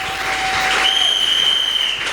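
Church congregation clapping and cheering during worship, a steady dense wash of applause lasting the whole moment with a sustained tone running through it.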